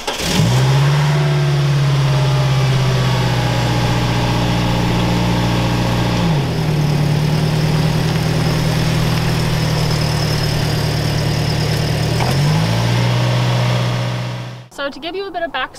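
A Toyota Hiace camper van engine runs steadily and loudly up close, pulling forward through gear changes with a continuous drone before a brief rattle at the end.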